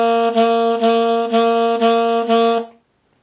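Reed instrument playing a steady run of six tongued notes, each sustained and separated by light tongue attacks on the reed, loud and close with no voice, ending cleanly.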